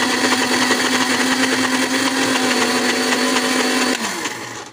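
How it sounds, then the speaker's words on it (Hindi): A blender grinding mustard greens runs loudly at a steady high whir for several seconds, then winds down as it is switched off. "अब फिर ब्लेंडर चला देंगे"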